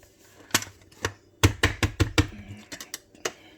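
A blender pulses through roasted salsa ingredients with jalapeño, giving a rapid series of sharp, close chopping bursts with brief gaps, loud and without talk.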